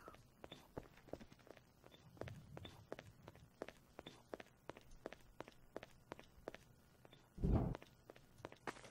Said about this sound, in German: Ob ich deine Schritte höre oder was auch immer ich höre.